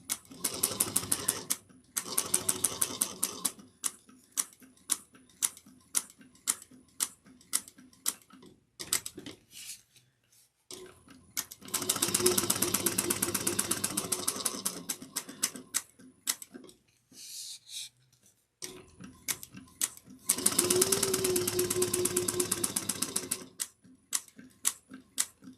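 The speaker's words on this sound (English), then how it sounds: "we're going to top stitch this at 1/8 of an inch" Sewing machine top stitching a bucket bag at an eighth of an inch, rapid ticking stitch bursts starting and stopping in several runs, with quieter single clicks between and brief silent gaps.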